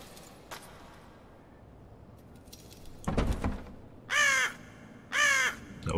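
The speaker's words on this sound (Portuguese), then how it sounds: "Um grito, um berro de pássaro aí quebra o silêncio. Acho que tem um corvo, alguma coisa lá fora." Crow caws in the video game Death Mark: two loud, harsh calls come in clear succession after a brief clatter, breaking an otherwise quiet, eerie background.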